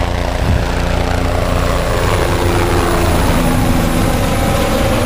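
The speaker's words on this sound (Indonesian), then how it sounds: "di sini ada pesawat A388 mau terbang" A toy Airbus A380 airplane takes off with a loud, steady whirring roar that holds unbroken throughout, close and dense with no voices.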